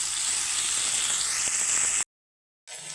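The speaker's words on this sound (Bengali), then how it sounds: "ওই পেঁয়াজের সঙ্গেই চিংড়ি মাছগুলো আমি ভেজে নিচ্ছি" Prawns fry with onions in a pan for a rustic kochu and puin shak dish, giving a steady, close, bright sizzle for about two seconds before a sudden cut to silence, then the sizzle returns.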